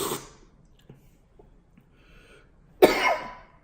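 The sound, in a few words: cough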